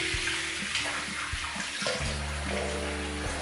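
A tap runs water into a sink during a wet shave touch-up, a soft, steady splashing stream close by, with the flow shifting slightly as hands or a razor pass through it.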